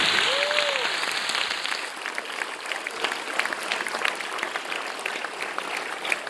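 An awards ceremony audience at a girls' drama final applauds steadily for about six seconds, a dense sustained round of clapping that holds constant with no talk over it.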